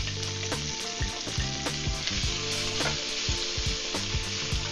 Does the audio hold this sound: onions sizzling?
yes